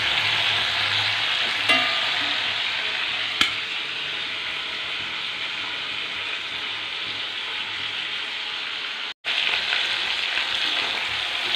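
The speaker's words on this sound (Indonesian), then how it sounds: "Ini goreng ayam" Chicken frying in a pan for biryani gives a constant, fairly quiet sizzle that runs unbroken from start to end, with a couple of faint clicks and a brief dropout near the end.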